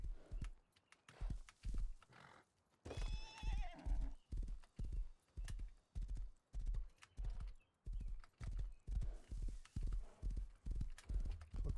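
A horse in a video game trots with rhythmic, steady hoofbeats and gives one loud neigh early on, heard clearly up close throughout.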